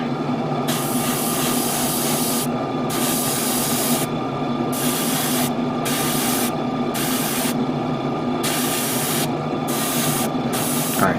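An airbrush sprays base coat onto a Gundam plastic model, a loud, close hiss in repeated bursts of a second or two separated by short pauses, over a steady underlying compressor-like drone.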